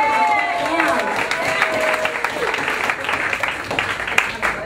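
A political audience at a voting-rights event cheers and applauds loudly in a room for about five seconds, with clapping and whoops running under and over speech.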